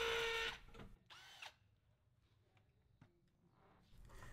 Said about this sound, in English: You're going to drill in using the drill driver or an impact driver